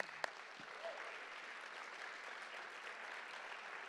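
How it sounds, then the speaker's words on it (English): Audience applauding at a high school graduation ceremony, sustained clapping from a large crowd across the hall, fairly distant and even, with a brief sharp knock near the start and a faint voice. "Let's give all of the testimonies another hand"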